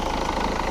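Rover 75 CDT diesel car engine idling with a steady, even mid-pitched hum and faint knocking texture, close and continuous, no talk.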